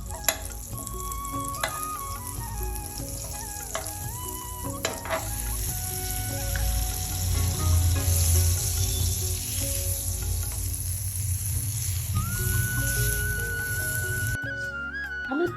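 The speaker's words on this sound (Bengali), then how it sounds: "আমি ফ্রাইং প্যানে ভালো করে বাটার দিয়ে দিচ্ছি।" Butter sizzles in a frying pan before a paratha goes in, giving a steady crackling fry that builds slightly louder midway, with faint clinks of utensils and a brief high tone near the end.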